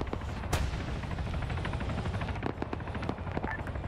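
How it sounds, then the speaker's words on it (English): DAGR rockets firing in a military video game during a large-scale battle, a dense run of rapid, crackling launches and distant explosions rolling continuously, with a sharp loud burst near the start. "Regardless, you hear more DAGR coming out."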